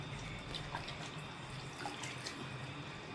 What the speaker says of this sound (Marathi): याला आता आपण एकदम स्वच्छ पाण्यामध्ये धुवून घेऊया एकदा.